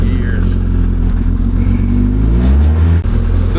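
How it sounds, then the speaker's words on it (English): An X3 engine revs loud and close while driving, its drone climbing in pitch as it strains with gears that are hard to engage. A brief cut in the roar comes near the end. "Now comes my favorite part, and that's driving Josh's car."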